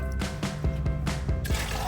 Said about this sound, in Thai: แล้วก็เทน้ำออกผึ่งไว้ในกระชอนได้เลยค่ะ